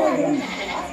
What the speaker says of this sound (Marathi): बकरी दिसत नाही बकरीचा आवाज कुठून येतोय